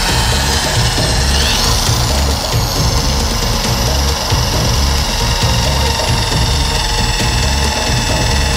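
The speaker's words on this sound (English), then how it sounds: "Let's just drill something with this." A power drill grinds steadily and loudly into a mystery box, a continuous whining motor drone with a constant rumble underneath and no pauses.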